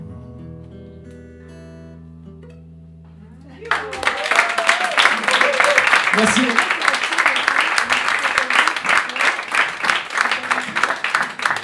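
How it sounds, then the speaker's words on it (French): After a quiet tonal opening, an audience at a poetry event's anniversary bursts into loud, sustained clapping that holds strong to the end, with a brief spoken thanks heard over it. "on m'applaudit un peu."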